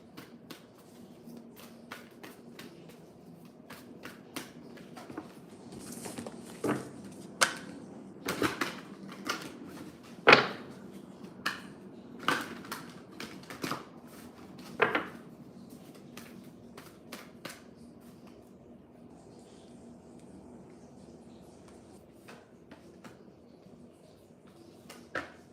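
A deck of cards is shuffled by hand, giving soft riffling and sharp intermittent snaps and taps that rise in the middle stretch, quiet and close against a faint indoor background.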